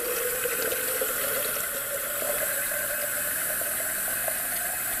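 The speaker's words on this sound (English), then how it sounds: "I'm going to add, oh, probably about half a can of water." Water poured from a can into a soup pot of chicken pomodoro, a steady continuous splashing pour that runs close and fairly loud for the whole stretch with no talk.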